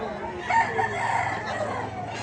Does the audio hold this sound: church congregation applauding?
no